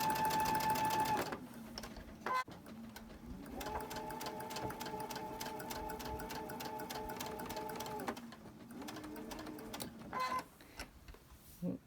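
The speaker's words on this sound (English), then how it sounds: "I'll go ahead and I'll chain stitch all these." A sewing machine chain-stitches fabric pieces for a Christmas tree quilt block, its fast rhythmic whir running in several bursts separated by short pauses, close and fairly quiet.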